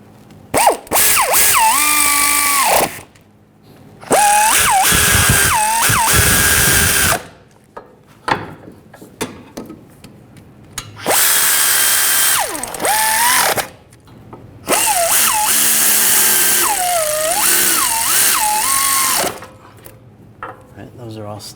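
A power ratchet or impact tool snugs wheel hub bolts on a Volkswagen Jetta hub assembly, in several loud whirring bursts of a few seconds each, separated by quiet gaps and softer clicks, close up.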